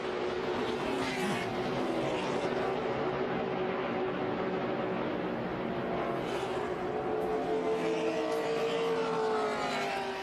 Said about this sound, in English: Oh, out of control goes Kenseth. Over on his roof.